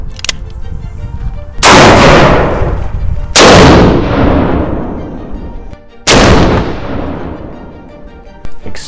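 Three loud gunshots from the world's most powerful pistol caliber carbine, each a sharp crack followed by a long booming decay, spaced a couple of seconds apart.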